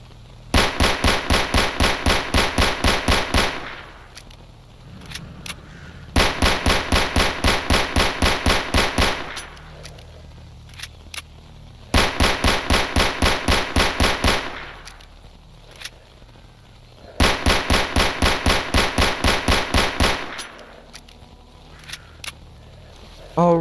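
Fort-17 9mm pistol from S.T.A.L.K.E.R. Anomaly fired in four long rapid bursts of sharp, loud shots, each lasting a few seconds, separated by brief quieter gaps with faint handling clicks.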